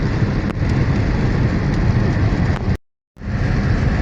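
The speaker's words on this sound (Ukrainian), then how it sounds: "а дощ не просто йде. Дощ, що називається, пере." Heavy rain drums steadily on a car driving along a road near Zhytomyr. The loud, even wash of downpour and road noise drops out briefly and then returns.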